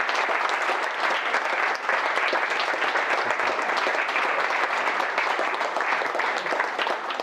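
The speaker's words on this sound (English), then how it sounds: "So if we give them a round of applause" Wedding guests applaud during the speeches, a dense, steady round of clapping that carries on at full strength from start to finish with no voices over it.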